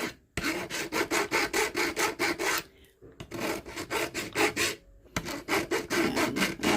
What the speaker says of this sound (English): I still got a good area right here that still needs filing